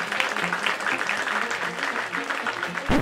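An audience claps hands for Tinkerbell at a children's storytime, a dense, steady patter of many hands that carries on throughout without a break, no voices on top.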